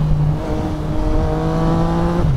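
Yamaha MT-09 big bike engine heard while riding, a steady close drone with clear harmonic tones that shift pitch slightly as the rider works through early gear changes, steady and loud throughout.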